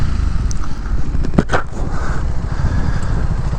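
A Honda CBR 250R motorcycle rides along, its engine a steady low rumble close by, mixed with wind noise and a few brief scrapes.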